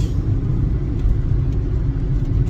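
A car driving along a country road on a 40 km commute to work, producing a steady, loud low engine and road rumble from inside the cabin, constant with no speech.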